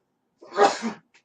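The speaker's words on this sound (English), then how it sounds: "and I have to sneeze." A single sharp sneeze from a podcast host in a quiet room, close and clear, lasting about half a second, followed by a faint breath.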